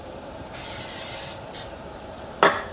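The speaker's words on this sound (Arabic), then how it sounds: "هنحط من السبراي الماجيك سبراي ده" Cooking spray from an aerosol can is sprayed over vegetables being prepared for a quick dinner: a sustained hiss of nearly a second, a short second burst, then a brief louder spurt near the end, with no voices.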